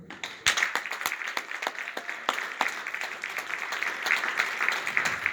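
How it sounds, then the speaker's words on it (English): Sustained audience applause fills a welcome for a boxing analyst and trainer at a Montreal anti-bullying event, dense rapid clapping holding steady and loud throughout. "Keep applauding, keep applauding."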